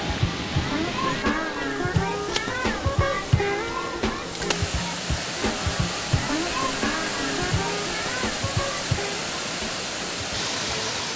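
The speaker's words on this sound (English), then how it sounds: "When they reach a waterhole, the men wash off the sticky honey." Water at a waterhole where honey hunters wash off sticky honey, a continuous rushing, splashing flow with intermittent sloshes and knocks from washing, close and fairly loud.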